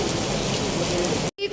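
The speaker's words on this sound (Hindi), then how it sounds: "शदीद किस्म की बारिश हो रही है यहाँ पे" Heavy rain pouring down steadily outdoors, a dense, loud hiss that fills the scene without letup and cuts off abruptly near the end.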